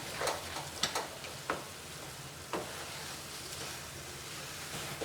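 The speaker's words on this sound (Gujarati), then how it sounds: "આને આપણે આવી રીતે સતત હલાવતા રહેવાનું" Grated coconut, milk and mawa simmer in a pan for coconut ladoo, giving a continuous gentle sizzle with scattered sharp taps of a spoon stirring against the pan.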